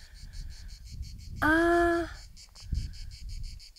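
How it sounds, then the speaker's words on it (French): Rapid, pulsing cicada chirping buzzes steadily in the background, briefly interrupted by a short spoken word and a few soft thumps. "Vous entendez les cigales?"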